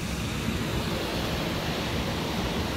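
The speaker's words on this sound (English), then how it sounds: "water is just gushing from a car after it hit a fire hydrant" Water gushes from a broken fire hydrant hit by a car in a two-car crash on a flooding Richmond street, a loud, dense, continuous rushing roar with no talking.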